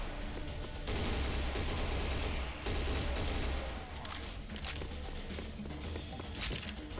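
Sustained assault rifle fire in the video game Serious Sam Fusion, a loud, dense burst of rapid shots filling the whole stretch, with brief dips in intensity between volleys.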